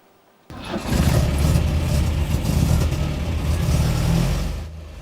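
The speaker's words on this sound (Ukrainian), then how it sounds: "Коли гарчить двигун цього ретро-спорткара, земля навколо здригається" An old retro sports car engine at a vintage car festival in Kyiv roars continuously at close range, a deep throbbing rumble that swells and holds for several seconds before easing off.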